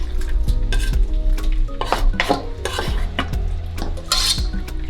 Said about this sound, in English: So we're gonna let that saute.